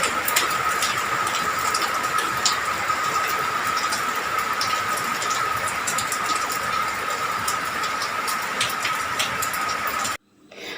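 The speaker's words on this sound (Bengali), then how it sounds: "আপনাদেরকে একটু বৃষ্টিও দেখালাম, আর একটু বৃষ্টির আওয়াজও শোনালাম" Rain falls steadily on a rooftop garden with grow bags, a constant dense hiss of drops that runs unbroken for about ten seconds before cutting off abruptly.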